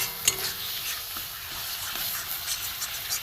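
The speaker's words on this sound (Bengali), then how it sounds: "একটু ভালো করে নেড়ে নেড়ে শুকনো করতে হবে।" Thor (banana stem) paste being stirred in a pan with salt, sugar and turmeric, a steady close scraping and stirring under a soft continuous sizzle, one sharp clink near the start, no talking.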